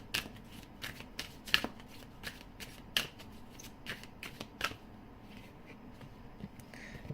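Tarot cards being shuffled and laid out on a table, a series of crisp, separate riffles and slaps at irregular intervals, close and clear with a quiet background.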